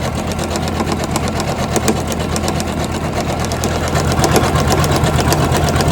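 Janome 500e embroidery machine stitching a Halloween design onto a napkin, a close, continuous rapid mechanical whirr of needle strokes with a steady pulsing rhythm.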